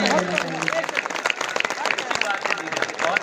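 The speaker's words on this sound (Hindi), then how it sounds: "अगर आप इस बात की तायीद करते हैं तो बरसों तालियां बजाकर" Audience clapping at a Hindi-Urdu poetry recital, a dense, steady wash of many hands that stays level throughout, with faint crowd murmur underneath.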